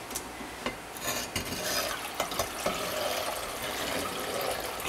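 A high-temperature soap batch of oils with stearic acid and lye being stirred in a crock, giving a steady wet swishing and scraping with occasional sharp clinks against the sides, close by and with no talking.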